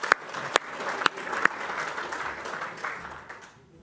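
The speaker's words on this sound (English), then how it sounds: "We'll give her one more clap." An audience at a sheep breeder forum claps steadily for a few seconds, a dense patter with a few sharper nearby claps, fading at the end.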